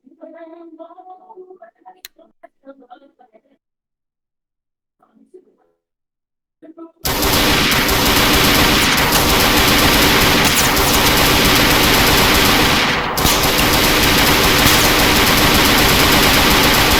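Gunfire during a Philippine Army raid defence in a military game, starting with quiet speech, then a sudden loud, sustained burst of rapid machine-gun fire that continues to the end.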